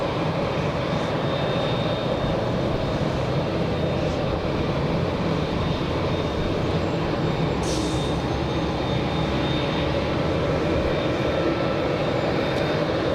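Turkish Airlines airliner on flight 180 to Istanbul at LAX, a loud continuous jet engine roar with a thin steady whine, constant in level throughout and unbroken by voices.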